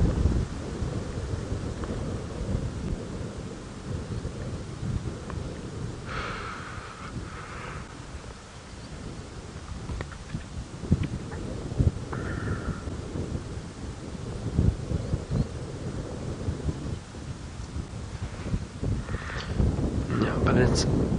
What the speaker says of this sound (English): it's very windy, and I'm sure some of you might even be able to hear it in my microphone.